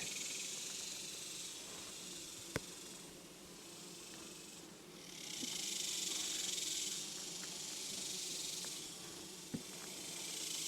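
Hawaiian Kona Italian honeybees humming inside an open hive, a soft steady buzzing drone that swells and fades, with two sharp clicks standing out against it.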